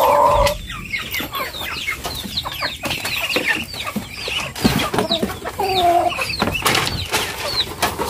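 A flock of chickens clucks and squawks busily before feeding, many overlapping calls close by in a continuous, restless chatter.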